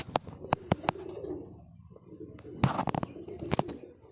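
Low, throaty pigeon coos repeat in soft rolling phrases, close by, broken by sharp taps and clicks.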